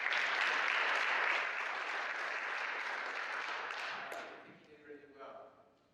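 A room full of people claps together in a broad, dense round of applause that holds steady, then thins out and dies away after about four seconds, leaving scattered faint sounds.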